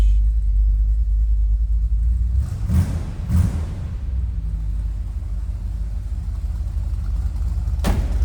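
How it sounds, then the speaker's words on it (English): A 1960 Chevrolet Impala Sport Coupe idles nearby with a deep, steady engine and exhaust rumble, interrupted by a couple of short bumps and a brief click near the end. "Good sounding car."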